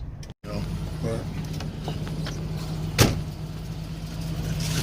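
A car rolling on brand-new Lionhart Lionclaw 255/70R16 tires, heard from inside the cabin as a steady low road and engine drone with one brief thump partway through.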